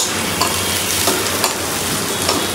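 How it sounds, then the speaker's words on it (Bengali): Dried fish frying with spices in a pan: a loud, continuous close-up sizzle with occasional soft stirring scrapes, no voices. "এখন শুধু জাস্ট মশলাগুলোর সাথে ভেজে নিচ্ছি"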